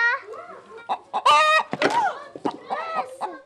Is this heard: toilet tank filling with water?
no